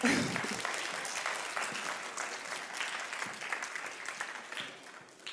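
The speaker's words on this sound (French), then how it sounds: "Applaudissons-le, vous avez raison." An audience applauds the ASIMO robot after its demonstration at a French robotics event, a dense, continuous round of clapping that tapers slightly, fairly soft and distant.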